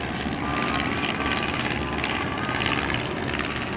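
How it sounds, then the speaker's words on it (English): Light aircraft of the L-Bird type flying in formation at an airshow, their propeller engines droning steadily loud and close throughout with a broad, continuous roar and no talk. "Tony come by with their aircraft"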